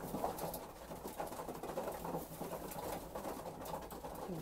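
Racing pigeons in a loft give a steady low murmur of soft cooing, several birds calling at once with faint rustles and patter, continuous and close throughout.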